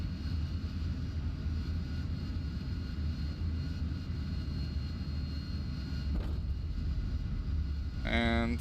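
AV-8B Harrier jet engine in the DCS flight simulator, a steady loud jet roar with whine after throttling back on landing, continuous and close throughout.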